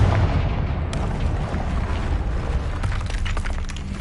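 Confringo fire spell from Hogwarts Legacy blasting loudly and continuously, a dense rumbling burst with sharp crackling hits layered throughout.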